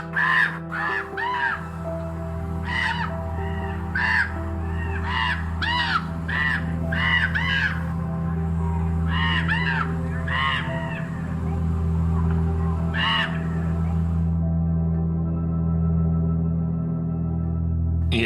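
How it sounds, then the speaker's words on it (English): A chorus of common ravens calling from a Joshua tree in Death Valley: many loud, harsh caws and croaks in irregular bursts, some overlapping, before they trail off into quiet. "a Joshua tree full of these particular large black corvids means a whole chorus of Weird Annie's back-asswards raven call"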